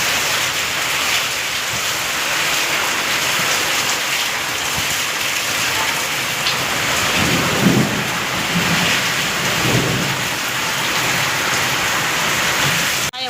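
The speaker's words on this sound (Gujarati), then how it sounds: "ભારે પવન સાથે વરસાદ છે. વીજળીના કડાકા ભડાકા થાય છે." Heavy storm rain pours steadily with gusting wind, loud and close, and low rumbles of thunder swell twice partway through.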